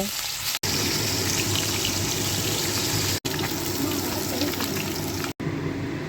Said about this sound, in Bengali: কড়াতে তেল গরম হয়ে গেছে এইবারে মাছগুলিকে ভেজে নেব